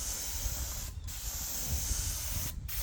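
Steady hiss of a spray gun painting a 460 engine for a Ford F250, running continuously with two brief breaks, close and fairly loud.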